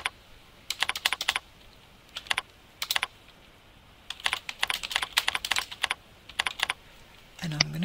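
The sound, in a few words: typing on computer keyboard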